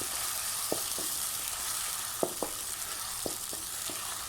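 Onion and green chilies frying in reused oil left over from frying okra, a steady soft sizzle with a few sharp spoon clinks against the pan, no talking.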